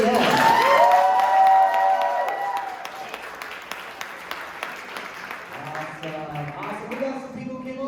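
Audience applause at a stand-up comedy showcase, loud at the start and then tapering into scattered claps and cheers, with a voice speaking over the fading clapping toward the end.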